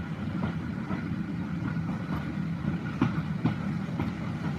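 Heritage train on the Bluebell Railway heading south from East Grinstead through Sussex countryside, heard from aboard as a steady low rumble with rhythmic clickety-clack wheel beats at moderate distance.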